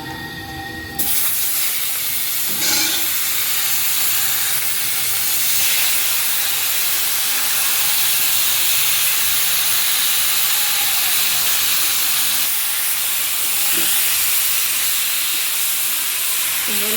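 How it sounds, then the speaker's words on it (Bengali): Fish hits hot oil in a kadai for a Bengali loitta fish curry and bursts into a loud, continuous hiss and sizzle. The sound starts abruptly and holds steady close up with no talk. "এবার কড়ার মধ্যে মাছটা দিলাম"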